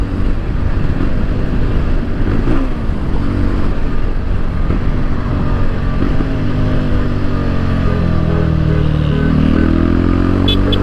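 A Voge 250RR motorcycle with its exhaust removed, revving loudly and continuously close by, the raw unmuffled engine note rising in pitch toward the end with no talk over it.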